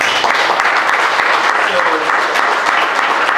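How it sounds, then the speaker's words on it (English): Dense, loud audience applause at a Q&A event, a continuous wash of many hands clapping with a faint voice briefly heard beneath it. "Round of applause, please."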